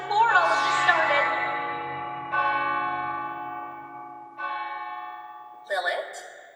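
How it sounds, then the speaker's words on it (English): Church bells toll for a funeral in several resonant strikes with long ringing decays, loud and close, each new stroke sounding over the fading hum of the last. "Listen, the bells of your funeral."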